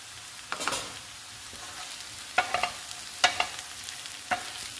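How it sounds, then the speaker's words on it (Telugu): Okra fries with chili powder in a pan, giving a soft continuous sizzle with a handful of sharp spatula scrapes and stirs spaced a second or so apart, heard up close. "ఇప్పుడు ఈ కారాన్ని కూడా 2 నిమిషాలు వేయించుకోవాలి. అన్నీ కలిపి వేయించుకోవాలి."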